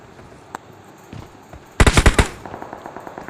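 A rapid burst of about six loud, close gunshots from an automatic weapon in PUBG Mobile follows a few scattered quieter shots and clicks.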